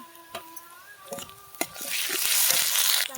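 Ginger garlic paste goes into a pan of onions fried until reddish with prawns, bringing a few clinks and scrapes of stirring followed by a swelling hiss of sizzling oil, close and fairly loud.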